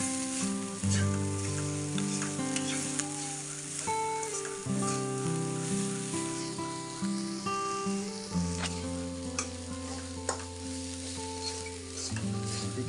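Cassava shoot leaves fry in a pan with a continuous close sizzle and crackle while being stirred, with a constant tonal hum running through the background.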